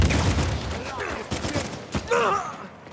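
Sniper gunfire in Uncharted 4, sharp rifle cracks amid battle noise, with someone shouting and groaning over the shots.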